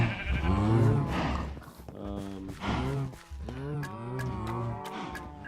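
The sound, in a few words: sheep bleating in a video game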